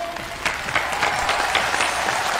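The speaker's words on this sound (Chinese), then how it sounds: "我们先把热烈的掌声送给洪豪" Warm, steady audience applause at a Chinese television talent show, a dense crowd clapping that swells slightly and holds evenly throughout.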